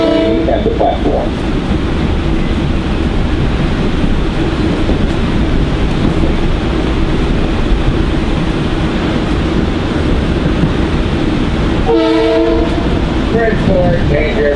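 A Metro North passenger train on the run toward New Haven, heard from on board as a loud, constant rolling rumble with wheel clatter. A short horn blast sounds near the end.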